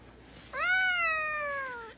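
A pet cat lets out a single long meow indoors, starting suddenly after a brief quiet moment and holding a clear, drawn-out, slightly falling tone for over a second, close and fairly loud.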